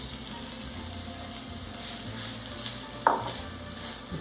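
Onions, celery and carrots sautéing in a pan, a low soft sizzle with faint stirring scrapes and a single brief clink partway through.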